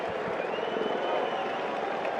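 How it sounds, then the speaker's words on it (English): A baseball stadium crowd cheers and applauds steadily, a dense wash of clapping and voices that holds at an even level throughout. "Crowd cheering him on as Schultz, the snap throw to first."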